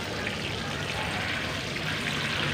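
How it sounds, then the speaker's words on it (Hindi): Water poured onto potted mint plants, a steady hissing trickle and splash that runs unbroken and close, with no talking. "देख सकते होंगे मैंने कितना ज़्यादा पानी दे लिया है। इसको भी दे लेंगे।"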